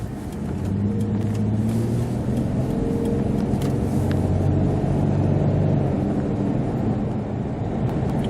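A 2001 Infiniti QX4 with a 3.5L engine cruising at speed, heard as a steady low rumble of engine and road noise from inside the cabin, continuous and unbroken, no voices.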